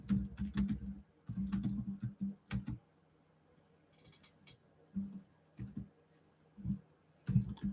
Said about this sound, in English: I'm just now typing in